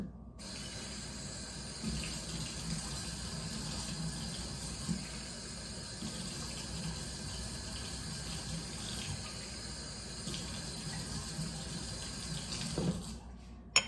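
Water runs steadily from a tap into a measuring cup in a continuous stream, with a faint clunk near the end.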